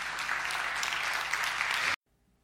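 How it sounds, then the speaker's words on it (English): Loud, dense clapping from a church congregation, steady for about two seconds, then cutting off abruptly into near silence. "Give the Lord a big hand clap today."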